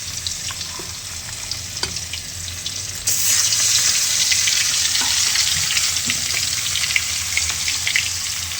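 Fish frying in hot oil in a kadai gives a steady, close sizzle with small pops and crackles, which jumps louder about a third of the way in and then holds at that level.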